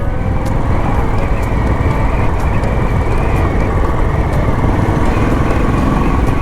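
A Royal Enfield Bullet 500 motorcycle thumps steadily on the road with a continuous, loud engine and exhaust drone, heard from the saddle while riding along the Normandy beaches.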